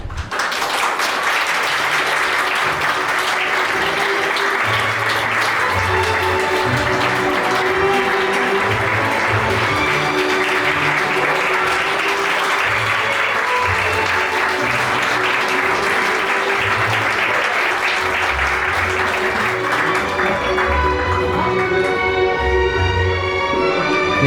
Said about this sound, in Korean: 우리 양가 어머님께서 등장하실 때 뜨거운 박수와 격려를 아낌없이 보내주시기 바랍니다.